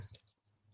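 A short alarm-clock style sound effect rings in two quick bright bursts, brief and fairly faint, then fades into near silence.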